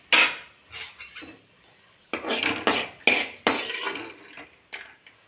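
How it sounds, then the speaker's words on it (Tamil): Roasted lentils for idli podi are tipped and scraped from the pan into another vessel, producing loud clattering metallic clinks and scrapes in bursts separated by short quiet gaps. "வேறு ஒரு பாத்திரத்துக்கு மாற்றிக்கிறோம்."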